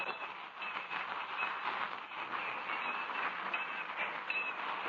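A train running on tracks as a radio drama sound effect, a steady, muffled, band-limited rumble and rattle with faint clickety-clack, continuous and fairly close, no voices.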